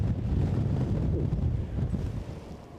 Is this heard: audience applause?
no